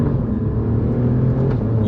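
An Alfa Romeo Giulia Quadrifoglio roars steadily up close while it spins its wheels, the revving engine holding a loud, dense drone with no pauses for almost two seconds.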